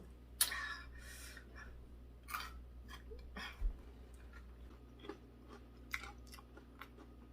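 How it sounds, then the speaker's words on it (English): Crunchy bites and chewing of fried butterfly chicken drumsticks, heard up close as a series of sharp, irregular crunches over a quiet background. "let's see if we can hear the crunch"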